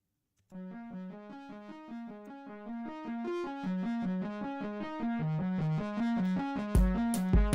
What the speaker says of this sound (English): It's a distortion plugin.